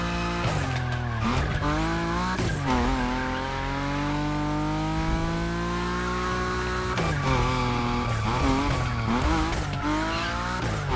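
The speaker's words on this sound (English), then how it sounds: "Your Nismo is powerful enough to slide along on its own when you're at high speed" A Nissan 370Z Nismo slides at high speed in The Crew Motorfest, its engine droning loudly while tires squeal in long sustained screeches, easing and then rising again, with no talk.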